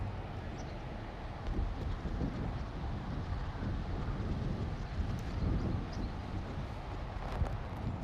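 Outdoor wind in a park during a yoga session buffets the microphone in a continuous low rumble, with faint gusty swells throughout and no voices.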